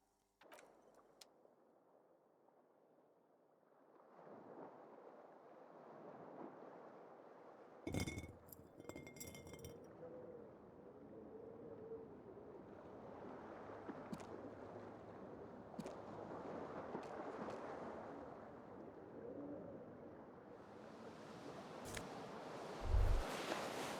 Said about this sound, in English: You hear a jingle. Keys are clinking in the pocket of your flare-cut pants.